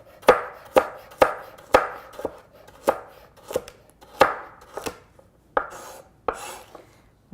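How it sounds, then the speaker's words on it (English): A knife chops through a thick carrot on a cutting board, about a dozen crisp, evenly spaced thuds, close and clear, with no voices. "this part of the carrot is somewhat thick, so I'm just going to go in the middle, go like that, and cut it into 2 parts"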